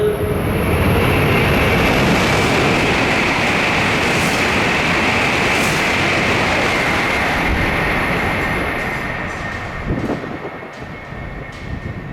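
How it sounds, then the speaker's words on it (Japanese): A Hokuriku Shinkansen train speeds through a station platform without stopping, a loud, sustained rushing roar that holds for several seconds and then fades, leaving a few faint clunks. "まもなく12番乗り場を列車が通過します"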